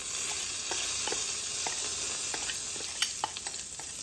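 Spices sizzle in a pan for yellow toor dal, a steady hiss broken by scattered pops and light scraping stirs, close up with no talking.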